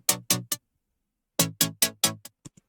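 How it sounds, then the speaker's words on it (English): Saw synth chords built in Vital and filtered for a future bass build-up, played as short rhythmic stabs in two bursts with a pause between, then a few quieter trailing hits. "Just like your standard little build-up saws."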